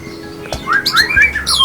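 Close, loud trotolan songbird calls imitating young ciblek chirps, a run of quick rising squeaky whistles and squawks with brief gaps and a soft knock partway through.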